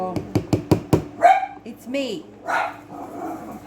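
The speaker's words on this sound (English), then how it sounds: "Crazy dogs." A dog barks five times in quick succession, loud and close, followed by a short whimper and a person talking.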